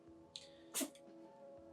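A pet cat named Cricket gives a single sharp sneeze indoors, a quick close burst standing out over a steady low electrical hum and quiet room tone.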